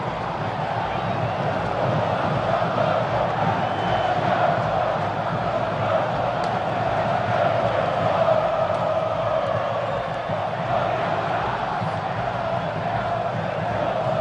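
A large crowd of Corinthians football supporters sings together loudly in a stadium, a dense, steady roar of massed voices that holds without a break throughout.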